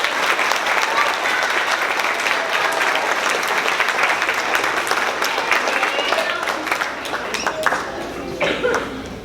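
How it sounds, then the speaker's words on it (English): An elementary school crowd applauds loudly for fifth grade graduates, dense clapping that thins toward the end into a few separate claps, with some voices mixed in. "Let's give them another round of applause."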